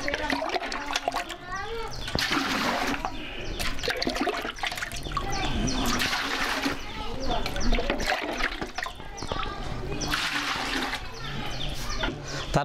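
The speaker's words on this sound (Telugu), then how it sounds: "ముందుగా పాత్రలో 4 లీటర్లు నీళ్లు పోయాలి" Four litres of water poured into a vessel as the first step of making beejamrutham for drumstick seed treatment, a steady liquid rush running under continuous talk.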